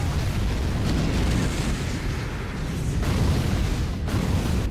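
A sustained, roaring explosion from an anime special attack rumbles on for several seconds, heavy and booming with dense low rumble throughout.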